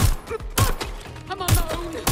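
Gunfire in the video game Watch Dogs Legion comes as three loud, sharp bursts about half a second apart, each followed by rumbling, with speech around them.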